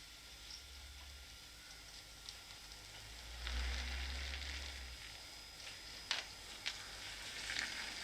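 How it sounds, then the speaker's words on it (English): Milk boiling over on a stove gives off a faint, steady sizzle with scattered soft ticks and pops, quiet throughout. "Your milk's boiling over."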